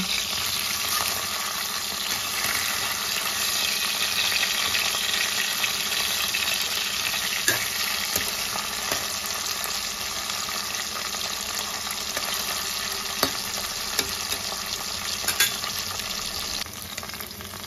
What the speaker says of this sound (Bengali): এক পিঠ ভাজা হয়ে গেছে, এবার মাছগুলো উল্টে দেব।